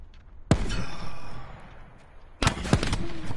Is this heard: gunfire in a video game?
yes